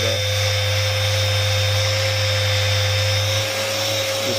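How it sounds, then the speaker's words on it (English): A handheld sander set to grinder mode works on hardened resin with a 220-grit disc, giving a loud, constant high-pitched motor whine with a steady buzzing hum beneath it throughout. "It's a sander, but when you put it on this mode over here, now it's a grinder."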